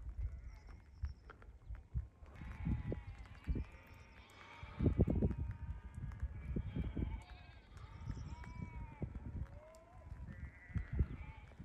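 A flock of sheep bleats on a snowy, misty mountainside, several animals calling at different pitches over a low rumble of movement and wind, with a person's voice speaking at times.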